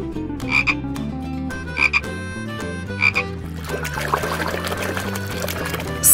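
A frog croaks three times at a steady, evenly spaced rhythm, clear and prominent over continuous background music, followed by a watery, trickling texture.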